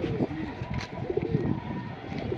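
A pigeon being handled and held up for sale gives several soft, low coos close by over a steady background murmur.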